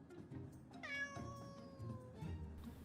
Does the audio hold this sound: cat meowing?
yes